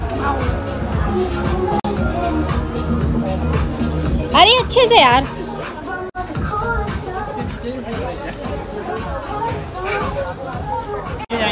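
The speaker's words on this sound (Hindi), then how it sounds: "कितना ज़्यादा भीड़ है और वहाँ पर कैश काउंटर पे तो खैर गजब की ही भीड़ है" Dense crowd chatter fills a packed shopping mall during a Diwali sale in Patna, a steady babble of many overlapping voices with shuffling movement, and a nearby person speaks briefly over the hubbub.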